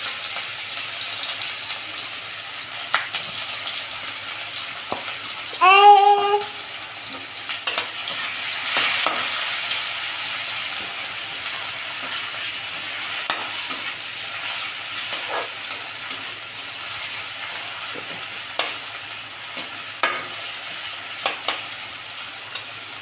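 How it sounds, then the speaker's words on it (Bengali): Onions frying in oil with a steady low sizzle, broken by stirring scrapes and one brief louder clatter partway through; prepared for a Bengali village-style prawn and potato curry. "পেঁয়াজটা লাল লাল করে ভেজে নিয়েছে।"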